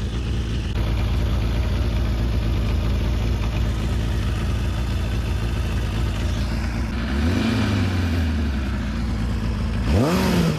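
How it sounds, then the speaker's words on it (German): A Kawasaki Ninja ZX-9R motorcycle engine idles loudly and steadily up close, a constant rumbling throb, with a brief blip of revving near the end; the bike has recurring coolant problems. "So läuft das Motorrad im Leerlauf."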